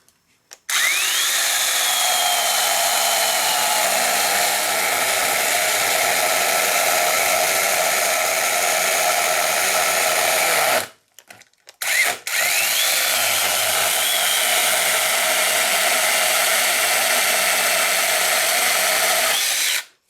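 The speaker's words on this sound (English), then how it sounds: "We're going to do a plunge cut and then pull up on it." A Sainlogic 6-inch battery mini chainsaw plunge cuts into a 2x4 board, a loud steady motor whine cutting through wood for about ten seconds, a brief stop, then a second long cut.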